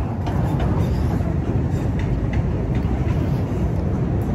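Train running past in Chicago, a loud steady rumble with rail clatter and screeching that continues throughout, no voices over it.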